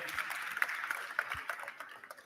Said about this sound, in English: big applause to our translators